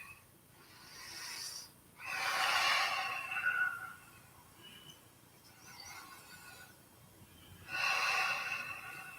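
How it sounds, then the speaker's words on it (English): Deep breaths during yoga practice come close and clear, a few long airy inhales and exhales spaced a couple of seconds apart, with quiet stretches between them. "Just listen to your breath, steady it."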